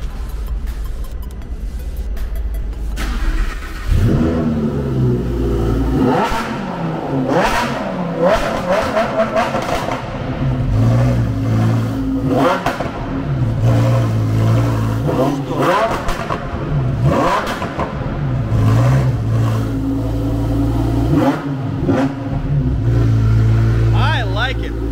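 A Lamborghini Performante engine revs loudly in repeated surges, the exhaust note rising and falling over a steady rumble, with people talking over it throughout.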